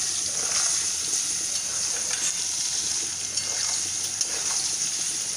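Cashews fry in a pan with a little oil, giving a steady, close, continuous sizzle with small crackles and no voices.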